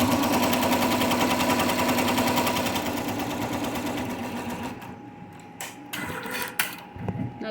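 A computer embroidery machine stitches a flower design with a rapid, loud mechanical chatter that gradually slows and fades, then gives way to scattered clicks and knocks near the end.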